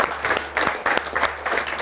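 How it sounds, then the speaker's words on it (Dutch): A small studio audience on a Dutch-language show applauds in a brief burst of rhythmic clapping, loud and close, with no talk over it. "Applaus mensen"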